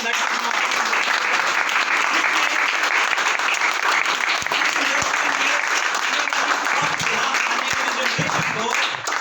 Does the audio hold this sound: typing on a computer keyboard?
no